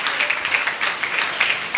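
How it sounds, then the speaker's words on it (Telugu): A church congregation at Shekinah Ministries in Guntur claps loudly in praise of Jesus, a rhythmic, pulsing wave of hand claps that swells in regular bursts throughout. "గట్టిగా చప్పట్లు కొడుతూ యేసయ్యకి మహిమ చేద్దామా?"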